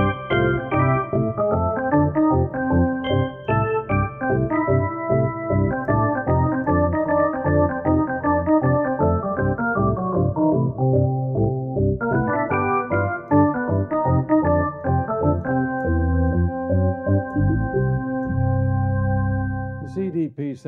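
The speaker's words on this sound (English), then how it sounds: "I like the organ sound, so I've stored mine." An organ voice on a Chase CDP-726 digital piano plays a chordal passage with sustained, layered tones and steady rhythmic changes, clear and fairly loud with no talking.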